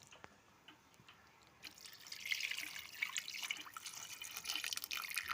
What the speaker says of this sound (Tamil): தேவையான அளவு தண்ணி ஊற்றிக்கலாம்.